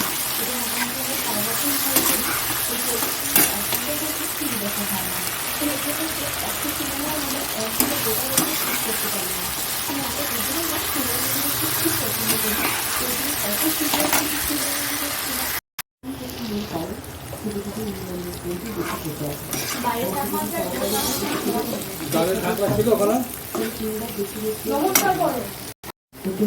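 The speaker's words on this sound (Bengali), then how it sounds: "এইটাই এই ভাজা হচ্ছে" Potatoes and pointed gourd fry with chilli powder and garam masala in a pan, a steady close sizzle running throughout with occasional stirring scrapes, while someone speaks intermittently over it and a brief break occurs midway.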